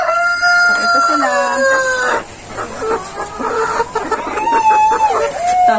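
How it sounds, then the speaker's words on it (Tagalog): Wyandotte breeder chickens in a poultry house, a rooster crowing loudly in long drawn-out calls while hens cluck and chatter close by; a voice talks briefly over the flock. "Napakaganda ng mga manok."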